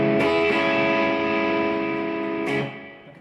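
Distorted electric guitar played through an HX Stomp using a Matchless amp simulator, a loud sustained chord ringing with a fresh strum near the end before fading, heard alone without talk.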